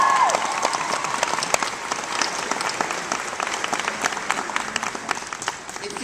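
Audience at a Doctor Who panel with David Tennant applauds steadily, a dense wash of clapping from a large crowd with scattered cheers, sustained loud throughout.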